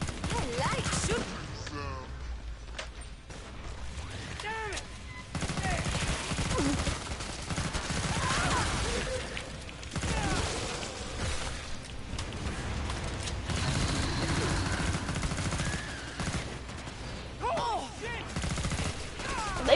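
Gunfire from a shooter game, Killing Floor 2: dense bursts of rapid shots and clattering weapon mechanics run almost continuously at steady loudness, with a voice talking over parts of it.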